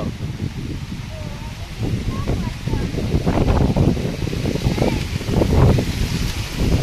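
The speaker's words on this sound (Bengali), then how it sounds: "বাতাস অনেক বাতাস দেখছো" Strong wind roars and gusts steadily against the microphone in a village, swelling louder toward the end, with faint rustling and occasional bird calls underneath.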